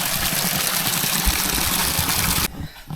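Water trickles and rushes near Dhuppani waterfall in the Rangamati forest around Bilaichhari, Kaptai: a loud, steady wash of flowing water that cuts off abruptly near the end.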